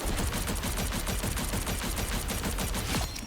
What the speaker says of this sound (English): this Scarlet Witch machine gun thing is crazy